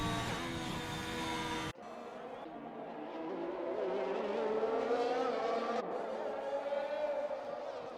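An F1 car in F1 2021 at the Austin USA round on a qualifying lap, its high engine whine climbing steadily through the gears after an abrupt cut, loud and continuous with a brief dip at a shift.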